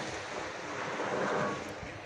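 Sea waves wash against the shore beside a seaside embankment on a spring morning, a steady broadband surge with some wind, no voices.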